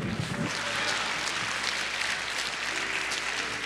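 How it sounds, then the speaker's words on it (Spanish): A church congregation applauds during a sermon, a dense steady clapping from many hands that stays fairly even for a few seconds with a faint murmur under it. "Denle ese aplauso a Jesús."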